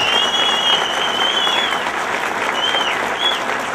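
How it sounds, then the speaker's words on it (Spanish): An audience at a tribute evening claps steadily and densely throughout, a continuous wash of applause with a thin, sustained high tone wavering above it. "Fuerte de nuevo ese aplauso para Don Elías."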